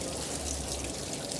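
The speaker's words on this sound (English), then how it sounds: "So just gonna rinse this off really well" Steady running tap water splashing continuously as sugar cane is rinsed under the faucet, a short, even wash of sound with no talking.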